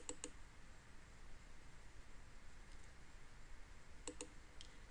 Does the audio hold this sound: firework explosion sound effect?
no